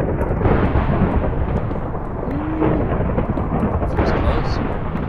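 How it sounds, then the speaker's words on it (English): Loud, close thunder from a storm in a video game rolls continuously over steady rain, with a brief louder swell near the end. "Dang, man, that thunder's loud."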